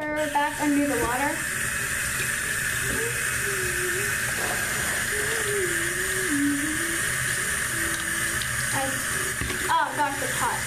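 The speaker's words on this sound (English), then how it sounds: "Now put her back under the water." Water runs steadily from a tap over a pony toy's hair, a constant hissing stream heard close throughout while someone talks over it.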